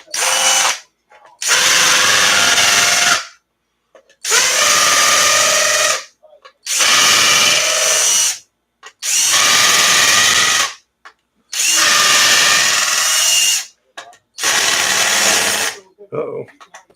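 A power drill countersinks holes on an ARRMA Kraton RC car, whirring in six or seven loud bursts of a couple of seconds each, separated by short silences, close up.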